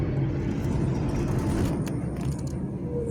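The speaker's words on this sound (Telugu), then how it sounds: "కస్టమర్ సింగిల్గా డ్రైవ్ చేస్తున్నారు" A car driven by a driving-school learner in Nalgonda, heard from inside as a steady, loud engine and road rumble with a faint rattle partway through.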